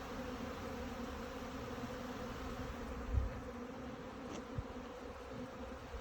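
Honeybees buzz in a steady, faint drone as they fly out of their hives on the first spring flight at an apiary, with a couple of soft knocks partway through.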